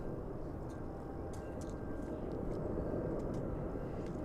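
An airliner arriving at DFW Airport on a flight from LaGuardia in New York, a steady broadband engine roar held at even loudness throughout, with faint higher clicks over it.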